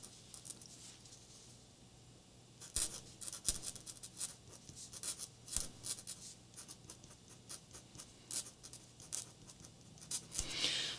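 Extra fine Posca paint pen writing on plain black cardstock, a steady scratchy patter of nib strokes with short pauses between words, close and fairly quiet, no voices.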